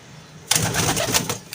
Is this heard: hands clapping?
no